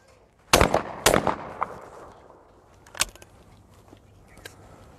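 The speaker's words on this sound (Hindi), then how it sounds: "अब मैं 2 शॉट्स फायर करने वाला हूँ, 2 टारगेट जाएंगे, ध्यान रखिएगा।" Two sharp gunshots crack in quick succession on an outdoor shooting range, loud and close, followed by a fainter third report and a few small impacts trailing off.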